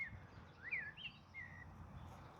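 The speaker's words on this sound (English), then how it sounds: "because you got birdsong" Birds chirp outdoors, heard from inside a car: a few faint, thin chirps and short rising calls spaced over a low steady rumble.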